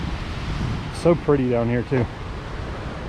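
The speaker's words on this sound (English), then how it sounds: "it is a very welcome sound to hear all of these waterfalls" Steady broadband rush of the waterfalls in Johnston Canyon, Banff, fills the background throughout, with a person briefly talking over it in the middle.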